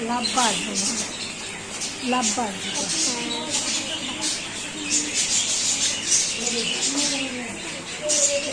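Birds call at a scenic outdoor spot in Rajshahi, their repeated chirps and short tweets rising over a steady background hum throughout.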